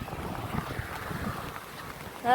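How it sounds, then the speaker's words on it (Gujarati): A flooded river rushes through low-lying Hanumangadh, a continuous roar of moving water mixed with wind buffeting the microphone, with a voice briefly breaking in at the end. "પાણીનો અવાજ કેવો આવે."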